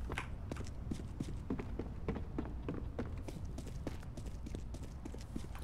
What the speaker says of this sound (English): When you're in drop, you can hear this set of footsteps here.